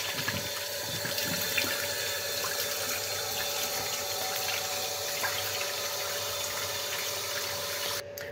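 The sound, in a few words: water running while washing face at sink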